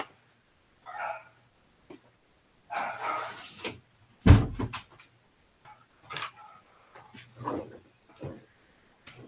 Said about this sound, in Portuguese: Deixa eu fechar aqui uma porta que tem muito barulho.